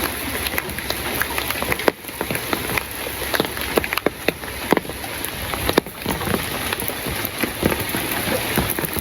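Steady monsoon rain falls hard and continuously on nearby surfaces, a dense, loud patter with scattered sharper drops and no speech.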